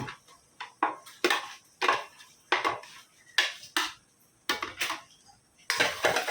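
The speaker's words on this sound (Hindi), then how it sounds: "अभी टमाटर डालेंगे और टमाटे को लेके भूनेंगे अच्छे से।" A spatula repeatedly clinks and scrapes against a pan while tomatoes are stirred with fried ginger and garlic: about a dozen sharp, close metallic strokes in an uneven rhythm over a quiet background, with no talking.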